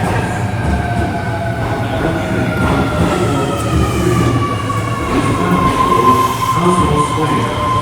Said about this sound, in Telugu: సో మన ట్రైన్ అయితే వచ్చేసింది.